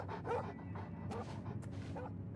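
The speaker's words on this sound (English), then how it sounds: "It's a wolf, though." A wolf in Oblivion Remastered gives a few short, yipping barks and whimpers at close range, scattered across a quiet stretch.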